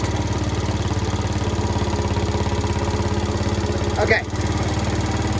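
A scooter engine idles steadily and close after a fuel-flow and battery repair, a rapid, even low putter throughout, with a brief spoken word near the end.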